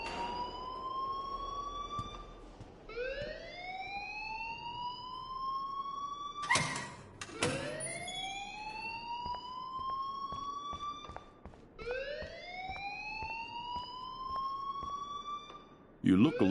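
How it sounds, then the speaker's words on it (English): Alarm in the Life is Strange video game: a loud, repeating siren that sweeps upward over about four seconds per cycle, cycling steadily, with some overlapping voices. "please turn off that alarm since that's your job"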